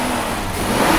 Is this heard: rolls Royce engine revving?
yes